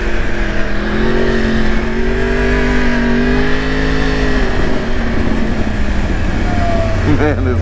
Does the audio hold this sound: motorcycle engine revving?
yes